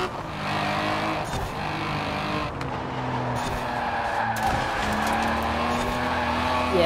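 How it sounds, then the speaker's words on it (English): A Lotus Elise Series 1 drifts through a corner in Forza Horizon 4, its engine note droning steadily alongside sustained tire squeal, loud and continuous for several seconds with only faint speech. "a bit of drifting action there"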